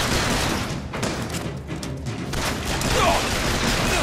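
Dense, continuous gunfire in the shooter game BioShock Infinite, a steady clatter of overlapping shots and thumps at close range filling the whole stretch with no clear gaps.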